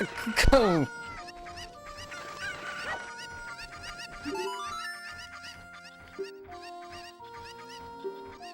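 Cuckoo chickens clucking and squawking in Ocarina of Time, a sharp loud burst near the start followed by repeated game sound effects and tones over a steady background, with speech-like voice layered throughout.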